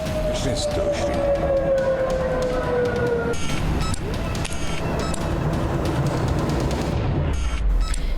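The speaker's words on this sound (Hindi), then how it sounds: "अम्मान में सायरन बजने लगे" Air raid sirens wail in Amman during an Iranian missile attack, rising and falling over a dense, noisy background, with a steady rumble and scattered sharp clicks throughout.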